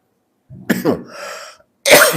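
A man lecturing in a mosque coughs: a brief harsh cough, a short raspy breath, then another louder cough, close and clear with no speech around it.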